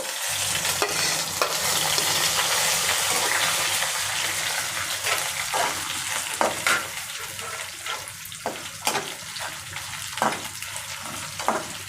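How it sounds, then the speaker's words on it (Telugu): Green chillies fry in oil in a kadai for a kotimeera chutney, a continuous close sizzle broken by repeated scraping stirs and clinks of a spoon against the pan. "నేనైతే కడాయి పెట్టేసి కొంచెం ఆయిల్ వేసేసాను అన్నమాట ఇప్పుడు మిరపకాయలు ఎంచుకుందామా ఫ్రెండ్స్ సరేనా చూడండి ఫ్రెండ్స్ ఇప్పుడు మిర్చి వేసేస్తున్నాను"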